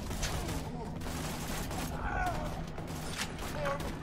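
Gunfire in the video game Borderlands 2, a dense crackle of shots with mechanical clatter running through the whole stretch, with a voice talking over the top.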